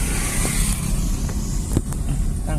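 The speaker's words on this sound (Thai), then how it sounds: "ก็มีรถเข้าออกนะ" Cars passing on a road, a steady close engine and traffic rumble that stays loud throughout, with a few faint clicks and knocks on top.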